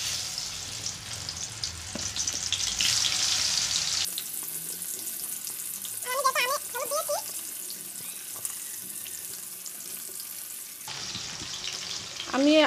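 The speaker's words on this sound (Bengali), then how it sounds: "এখন এরকম করে তেলের সঙ্গে আমি আস্তে আস্তে আমটাকে একটু ভেজে নেব।" Raw green mango pieces frying in oil for a homemade pickle, a steady close sizzle and bubbling broken by brief stirring clatter and a couple of louder bursts, with no talking.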